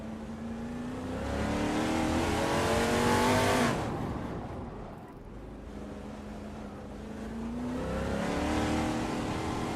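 A 1972 Ford Torino NASCAR-style race car in a racing video game, its engine revving up steadily, easing off briefly, then climbing again, loud and continuous with no talk.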